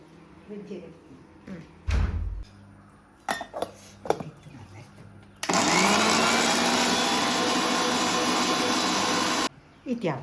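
A kitchen mixer grinder powders spices for a Tulu village-style Tajank Soppu recipe, starting abruptly with a loud, steady whirring roar that runs for about four seconds and then stops. Before it come scattered clatters, knocks and bits of talk.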